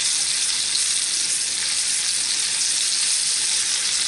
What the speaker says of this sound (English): I'm going to brown this about half the length of time I did the other